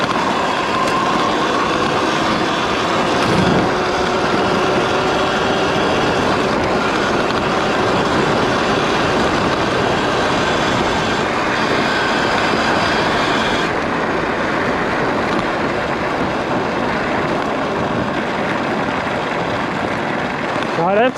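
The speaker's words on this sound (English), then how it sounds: "I'm going to put it on the sport mode, and we're going to go for a quick little ride" Electric dirt bike, a Sur Ron or Talaria, ridden down a trail in sport mode, with a steady, dense wind-buffeted rumble of motion holding loud and unbroken throughout.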